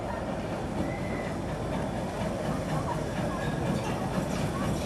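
Steady rumbling of a passing train hauled by a P8 steam locomotive pushing from the rear, with rolling wheel noise and a dense mechanical roar, continuous and fairly loud throughout.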